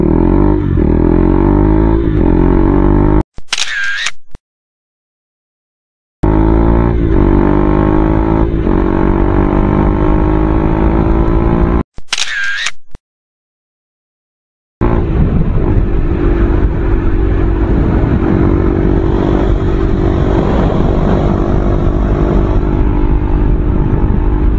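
A 2023 KTM Duke 390 motorcycle accelerates hard, its engine loud and close, revving up through gears with rising pitch, broken by two brief gearshift gaps before the roar resumes strongly.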